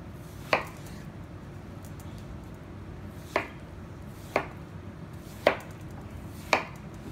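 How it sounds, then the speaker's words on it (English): A knife slices through a watermelon in five separate, distinct cuts spread unevenly over several seconds, each one a crisp thunk on the board against a quiet background. "We're going to cut some even slices."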